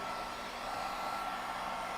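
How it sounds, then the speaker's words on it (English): A blow dryer runs steadily nearby on power from an Anker Solix C1000 portable power station, a loud constant fan-and-air roar with no voices. "so let's go with the blow dryer"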